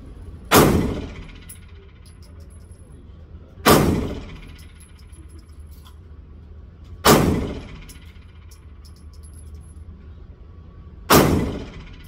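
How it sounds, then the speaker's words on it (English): Four loud, sharp gunshots from a Kahr CM9 9mm pistol at a shooting range, spaced a few seconds apart and evenly paced, each with a short echoing tail. "So we're gonna shoot at 7, 5 rounds of"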